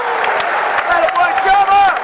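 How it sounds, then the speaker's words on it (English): An Iowa crowd at an NCAA wrestling championship applauds and cheers after a tech fall, a steady roar of clapping and shouting under a commentator's voice. "And the Iowa crowd behind us is loving it."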